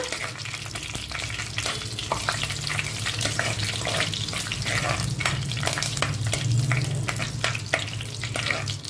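A single bay leaf frying in hot oil in a home kitchen pan, giving a dense, constant crackling sizzle with frequent small pops and spatters, close and fairly loud, no talking.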